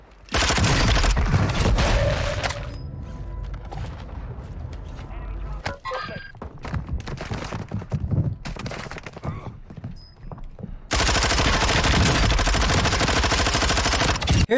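Gunfire rattles through a gunfight in the shooter game Warzone 2, loud bursts of automatic fire and shots that come in dense stretches at the start and end, with sparser shots and impacts between them.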